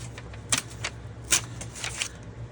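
Paper pages are torn out of a book in quick rips and crinkles, with two louder tears standing out over a low constant hum.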